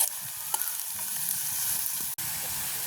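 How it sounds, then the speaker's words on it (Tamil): Curry leaves fry in oil, sizzling and crackling steadily in a pan, a bright hissing fry with a brief sharp clatter near the end. "நாங்கள் இதுக்கு கறிவேப்பிலையும் போட்டு பொரிக்கிறோம்"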